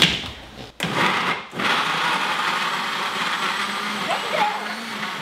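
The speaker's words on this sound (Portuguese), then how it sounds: "Tudo no liquidificador." A kitchen blender whirring through carrot cake batter of chopped carrots and oil, a loud steady motor whine after a couple of brief stops and restarts at the start.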